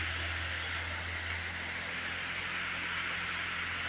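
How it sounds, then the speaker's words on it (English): Steady rain falls outdoors beneath a large tree, a dense continuous hiss without pauses, close and even in level, with a low constant rumble underneath and no talking. "It's raining."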